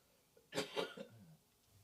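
A single sharp cough, close and fairly loud, followed by a brief throat-clearing rasp, then quiet.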